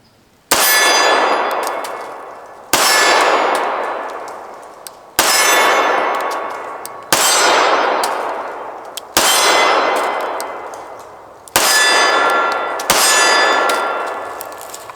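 Browning BDM pistol shots striking steel targets: seven loud, evenly spaced metallic clangs, each ringing out and slowly decaying before the next hit, with no talking.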